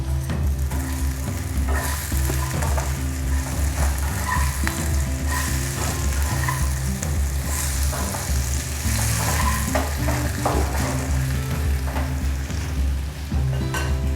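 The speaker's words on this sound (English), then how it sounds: "I'm just sauteing it" Potatoes for aloo bhujiya sauté in a pan with a steady, loud sizzle that runs the whole time, while a spoon stirs and scrapes now and then and gives occasional light clinks against the pan.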